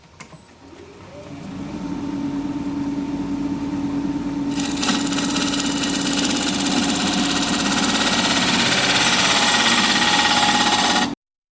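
A wood lathe turns a three-cornered bowl blank at 1000 RPM, a steady motor hum joined by a rougher, louder rushing whir as the gouge cuts, running continuously and close before stopping abruptly.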